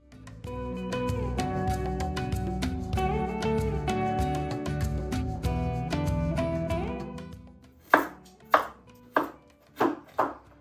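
Beets chopped with a knife on a cutting board, five or six sharp distinct chops near the end, following a stretch of sustained tonal sound, no talk.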